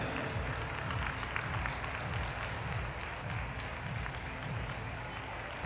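A dense, continuous wash of applause from an arena crowd at a rhythmic gymnastics World Cup final in Palaio Faliro, greeting the Israeli team; steady and moderately distant with no breaks.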